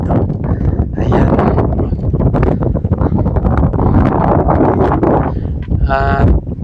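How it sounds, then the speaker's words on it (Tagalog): Wind blows across a mountainside on Mt. Kaalas-asan, buffeting the microphone in a loud, continuous rumble with gusty swells throughout. "kahit mainit yung panahon pero malamig pa rin dahil may hangin"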